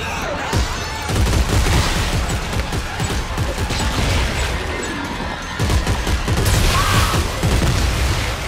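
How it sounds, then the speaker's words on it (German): Rapid Gatling gun fire in the sci-fi shooter Dead Space 3, a loud dense stream of shots running nearly the whole time with a short lull midway and a voice faintly underneath. "So eine Gatling"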